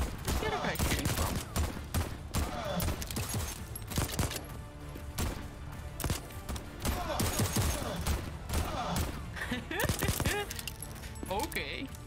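Rapid bursts of gunfire crackle through a Voidtrain firefight, dense and close, with scattered single shots and clatter between volleys under a talking player.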